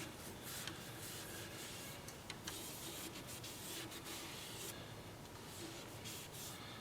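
Steady, continuous abrasive rubbing hiss of 150-grit sandpaper on a wood-turned piece, close and even, running throughout with slight surges and no talking.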